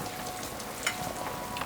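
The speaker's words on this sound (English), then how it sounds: "Plop it in the oil." Chicken fried steak cut from a pounded-flat ribeye sizzling in hot frying oil, a soft steady crackle with one sharper pop partway through, fairly quiet and with no talking.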